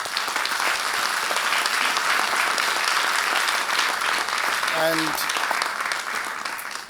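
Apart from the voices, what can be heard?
audience applause for award-winning paper authors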